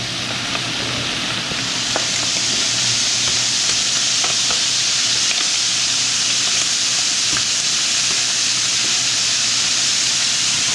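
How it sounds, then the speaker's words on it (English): Crusty shrimp sizzle loudly and steadily in a pan for a chicken and shrimp bruschetta, with occasional clinks and taps as the pieces are flipped. "We're going to take our shrimp and we're going to flip them over."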